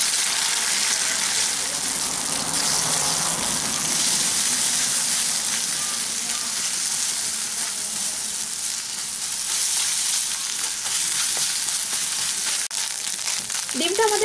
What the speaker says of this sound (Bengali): ডিমটাকে আমি একটু ভুজি বানিয়ে নিচ্ছি।